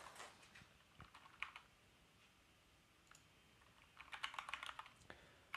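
Quiet typing on a computer keyboard while entering a statistics formula, scattered soft key taps that speed into a quick flurry of clicks near the end, no speech.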